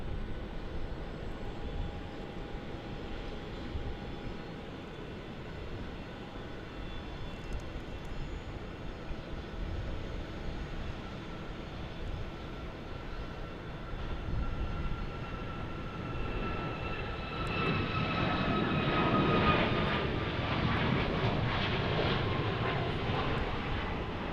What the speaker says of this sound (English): we are getting a Southwest takeoff here. 737 MAX.